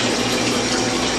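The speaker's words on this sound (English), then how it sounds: "This is a 300 gallon an hour utility pump." A 300-gallon-per-hour utility pump pushes pond water through a hose, making a steady, loud rushing and gurgling flow that runs unbroken the whole time with no voices.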